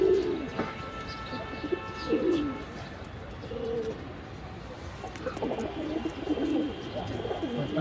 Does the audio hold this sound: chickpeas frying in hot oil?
no